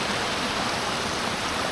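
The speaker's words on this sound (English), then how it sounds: "When I see a clean stream of water, I just have to splash my face" Clean running stream water in a video game, a dense, steady rushing flow heard up close and loud without pause, and no voices over it.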